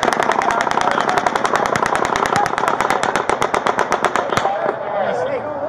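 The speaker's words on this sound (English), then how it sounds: "We're taking gunfire. It's going right over our heads." Rapid bursts of automatic gunfire crack loudly and continuously, a steady rattling string of close shots that stutters and fades out near the end, heard amid chaos in Las Vegas with people talking.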